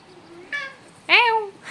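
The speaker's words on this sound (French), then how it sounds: "Il y a mon chat qui passe." A house cat meows twice close by, a short mew followed by a longer, louder rising-and-falling meow, with no one talking over it.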